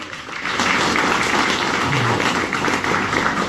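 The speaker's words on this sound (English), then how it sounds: "Give yourselves a round of applause, Santa Cruz." Crowd applause at a political rally in Santa Cruz, a dense, steady wash of many hands clapping that holds at a loud level throughout without a break.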